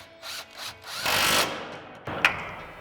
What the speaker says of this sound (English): we'll tighten that down with our 15mm socket on our impact